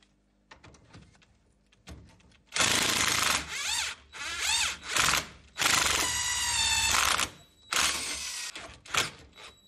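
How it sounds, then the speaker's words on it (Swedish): An angle grinder cuts off a seized nut at the top of a car's suspension spring, loud screeching bursts of several seconds each, separated by short pauses, with the whine rising and falling as the disc bites into the metal. "Jag fick ta till mig vinkelslip här uppe i toppen för den muttern skar i någon gänga här."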